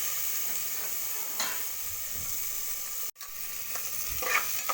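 Carrot and tomato sauté in a pan with a faint, continuous sizzle and occasional quiet stirring scrapes, plus one sudden brief cut-out midway.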